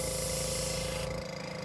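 Close, steady hiss of spray paint misted onto a Harlequin duck decoy, a continuous burst lasting under two seconds, thinning slightly at the end, with no voices.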